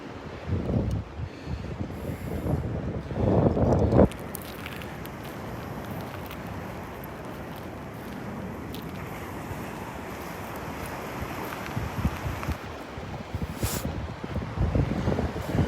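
Wind gusts roar across the microphone on a Gulf beach at Delnor-Wiggins, strong at first and then settling into a steady breezy rush with surf in the background.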